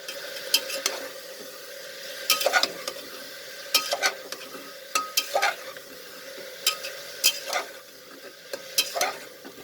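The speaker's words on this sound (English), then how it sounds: "And saute this for near about 3 minutes." Garam masala, chola masala and fresh coriander leaves sautéing in a pan for moong dal chicken: repeated clattering scrapes of a spoon come every second or so over a steady low sizzle, close by and with no talking.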